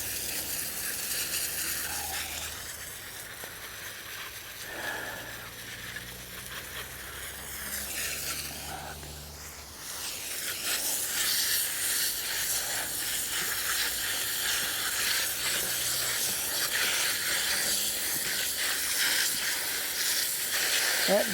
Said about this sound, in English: Just rinse them beets off.